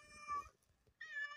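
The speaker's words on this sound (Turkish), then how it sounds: "Kedi de acıkmış arkadaşlar." Two clear meows from a hungry cat, close and fairly quiet, separated by a short pause.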